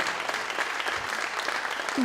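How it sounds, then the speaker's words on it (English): A high school audience gives a brief, steady round of applause for music honor society inductees at an induction ceremony. The clapping is even and moderately loud, and a faint voice cuts in at the very end. "let's give a big round of applause to all of the inductees"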